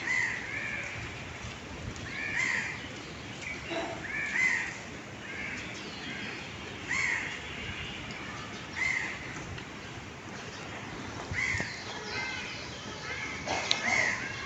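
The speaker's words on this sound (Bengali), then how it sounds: "সকাল সকাল অবশ্য বের হলে ভালোই লাগে পাখির কিচিরমিচির ডাক শুনতে" Crows caw repeatedly in short harsh bursts at a moderate distance on a cloudy morning after a cyclone, with a few other bird calls over a quiet, breezy outdoor background.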